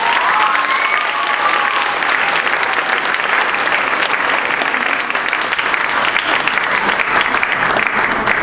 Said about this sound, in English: Can we give them a warm welcome and an applause?